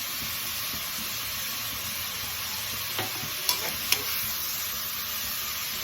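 Onions sautéing with turmeric in a pan for a potato curry, a steady close sizzle and hiss with a few soft clinks of a spoon stirring, no voices.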